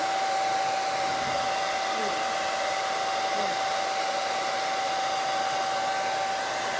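A hair dryer blows steadily and loudly throughout, a constant whirring hiss with a fixed whine, used to dry paint on a wooden cross yard decoration; no voices.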